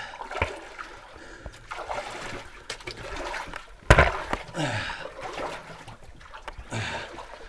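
Water sloshes and splashes in a flooded old mine entrance, with intermittent close trickles and one sharp, loud splash midway.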